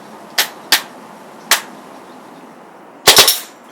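A Tippmann M4 CO2 paintball marker firing: three sharp single shots spaced apart, then a fast three-round burst, loud and close against a steady background hiss.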